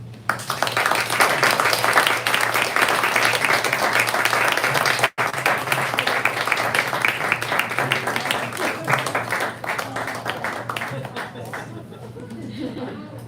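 Audience applause for four poets at a live poetry reading, sustained dense clapping from a room full of people that tapers toward the end, with some chatter underneath.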